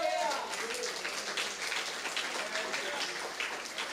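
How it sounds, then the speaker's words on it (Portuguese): Congregation clapping during a church service, a soft patter of hands spread through the room with voices and a faint sung tone at the start. "Uma salva de palmas para o Senhor."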